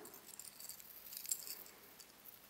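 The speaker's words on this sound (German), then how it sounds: "Ja, sehr, sehr lange Kette ist dran." A long double chain jangles faintly as it is handled, with light metallic rattles and small clinks scattered throughout, close and quiet with no talking.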